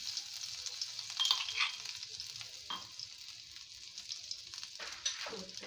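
Asafoetida, cumin and crushed ginger sizzle gently in hot refined oil, a faint, continuous fizzing with a few brighter crackles and some quiet stirring.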